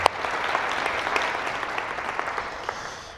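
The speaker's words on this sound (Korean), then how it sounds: "우리 다시 한번 하나님께 영광의 박수를 드릴까요?" A church congregation at a Korean Sunday worship service applauds with steady, dense clapping that fills the room from start to finish and fades slightly at the end.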